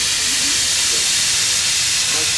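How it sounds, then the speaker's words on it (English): Steam hissing from the steam reverser on the footplate of a T9 steam locomotive, a steady loud broadband rush that fills the whole clip. "This is the steam reverser."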